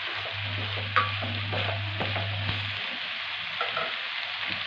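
Pasta tossed in oil in a hot pan makes a steady sizzle and frying hiss, with a few clinks of a spoon stirring and a low hum underneath for most of the clip.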